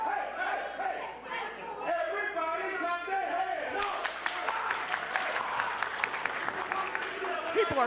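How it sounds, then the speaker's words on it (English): A wrestling crowd at a Crash Tested Wrestling show chants, then breaks into rhythmic hand clapping, sharp repeated claps over loud crowd noise and shouting voices. "People are clapping their hands."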